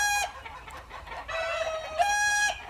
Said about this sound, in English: those chickens start the minute I come out here.